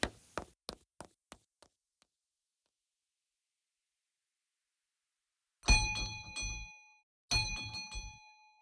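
A bell is rung loudly as a radio drama sound effect: a few quick light taps, then two bright ringing bursts with a lingering metallic tone, separated by a short gap.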